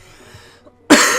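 A single sharp, close cough bursts out near the end after a near-silent stretch.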